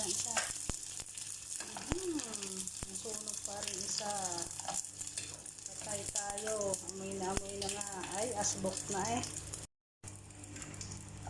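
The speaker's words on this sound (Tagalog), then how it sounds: "ako'y tapos na magprito ng aking daing" Daing, a dried fish, fries in a pan with a steady sizzle as someone talks over it at length, and the sound cuts out briefly near the end.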